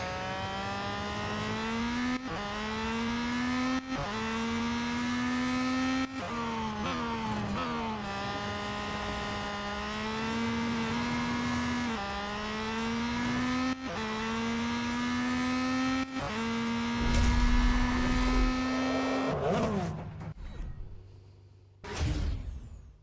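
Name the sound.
race car driving off track, from video game Real Racing 3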